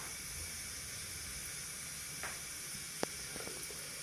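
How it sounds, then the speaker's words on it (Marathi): Fish frying in spiced masala in a pan, a steady close hiss and sizzle with a few faint clinks and pops. "आता आपण मच्छी थोडीशी आत फ्राय करून घ्या."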